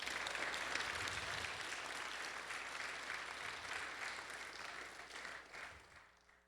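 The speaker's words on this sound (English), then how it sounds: "I just want them to give them a big round of applause." A church audience breaks into loud, dense applause that holds steady, then thins and fades out at the end.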